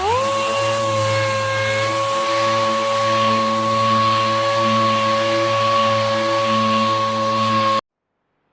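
A power sander with 40 grit paper works a stripped Skoda Fabia bonnet, giving a loud, steady whine with a constant hum that runs for about eight seconds, then cuts off abruptly.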